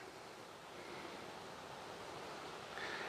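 Wind gusting across an outdoor stab stick campfire being built with split sticks, a steady broad rushing roar close to the microphone that swells slightly near the end, with no talking.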